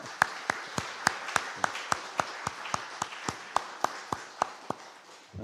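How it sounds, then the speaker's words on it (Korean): A church congregation claps to welcome the retired senior pastor and his wife at a Thanksgiving Sunday service. The claps come as a steady, evenly spaced series of sharp beats that sounds like a small group clapping in unison, moderately loud in a resonant room. "우리 박수로 환영하겠습니다."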